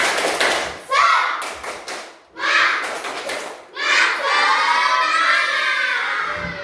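Classroom of schoolchildren doing the tepuk semangat clapping chant, rhythmic bursts of claps alternating with loud shouted chanting from the group, separated by brief pauses.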